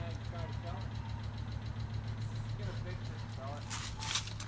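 A 1998 Volvo V70 turbo engine idles steadily while warming up, a low even rumble with a faint knock throughout and a brief brighter noise near the end.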